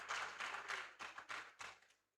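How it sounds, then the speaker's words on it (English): Conference audience applauding a speaker, a dense burst of hand claps that swells in several waves and fades out after about two seconds, with no talking. "Let's give him another round of applause."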